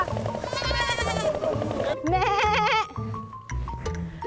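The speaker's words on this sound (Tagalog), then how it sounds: "Hintayin ko papuntahin dito ni Miss Cara ang mga kambing" Goats being herded bleat nearby, several wavering calls in a row over a murmur of background activity and faint voices.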